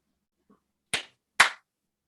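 Two sharp hand claps about half a second apart in a quiet room, with a faint tap just before.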